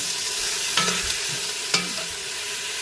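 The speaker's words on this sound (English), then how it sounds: "Give it a stir." Thai red curry paste is stirred in a hot pan, a quiet steady sizzle with a couple of distinct scraping strokes of the spoon against the pan.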